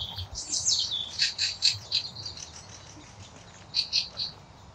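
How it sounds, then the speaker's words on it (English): Small birds chirp and twitter in quick bursts, fairly close, over a quiet background with no talking. "By the way, can you hear the birds singing?"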